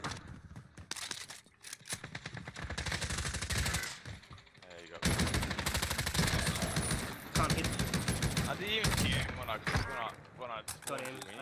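Odin rifle gunfire in Call of Duty Warzone, loud rapid automatic bursts in several runs with brief gaps, mixed with game effects and some talk.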